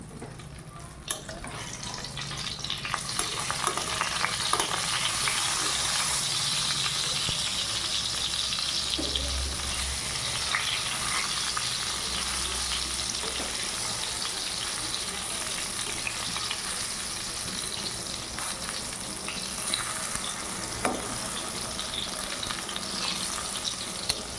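Oil sizzles and crackles steadily as eggplant fries in a pan, a continuous bright hiss with occasional pops and stirring.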